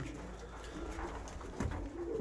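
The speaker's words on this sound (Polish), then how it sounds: "a na dole to klepią, grukają" Pigeons coo inside a loft, soft, low, repeated calls from nearby birds over faint rustling and pecking.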